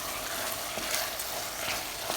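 Steady sizzling of tomatoes and rice in a pot with soft scraping strokes of a utensil stirring, close and continuous.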